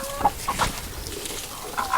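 Several short hen clucks come at irregular moments over a faint background, fairly close and moderately loud, as chickens eat superworms on an urban farm.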